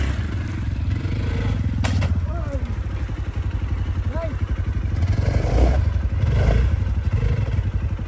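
A Hero XPulse 200 motorcycle struggles up a rocky hard enduro climb, its engine revving in uneven bursts amid clattering and scraping on rock, while people shout encouragement over it.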